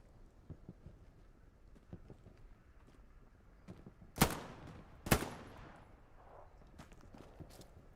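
Two sharp, loud gunshots crack out a second apart during a 6v6 skirmish battle game, over a quiet bed of scattered distant shots and faint clicks.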